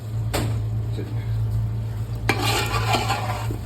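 Large garden potatoes stirred and frying in a pan, with a soft continuous sizzle, a low steady hum and a few sharp utensil scrapes against the pan, the loudest scrape about two thirds of the way through.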